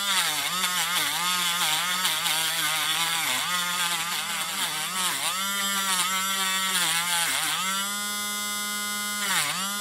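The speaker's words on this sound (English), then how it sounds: "So we can tidy that up a bit and get the Dremel on it." A Dremel rotary tool grinds at a small 1940s die-cast toy vehicle casting, its high motor whine rising and dipping in pitch as it bites into the metal, loud and continuous throughout.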